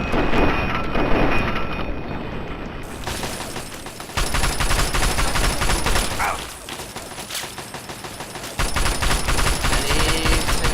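Sustained automatic gunfire aimed at a turret in Fallout 3, loud rapid bursts broken by brief pauses, with game ambience underneath.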